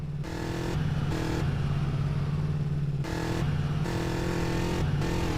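Motorcycle engine droning steadily as the bike climbs Mt Chiliad in GTA San Andreas, loud and close, with the pitch stepping up and down in repeated surges as the throttle is worked, no talk over it.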